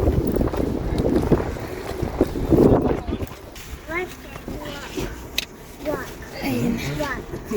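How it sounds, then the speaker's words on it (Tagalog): Strong gusts buffet the microphone outdoors on the way to church, a rough, roaring rumble that surges and fades, loudest at first and easing later, with voices talking over it. "Wow, so windy. It's so windy."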